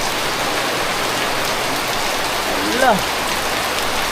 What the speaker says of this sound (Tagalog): Ayan po ang lakas ng ulan.